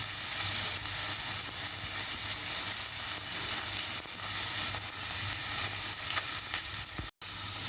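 Onions sauté in a pan while bitter gourd chukka is being made, producing a continuous even sizzle and hiss at moderate loudness. Faint stirring sounds come and go, and a brief dropout cuts in near the end.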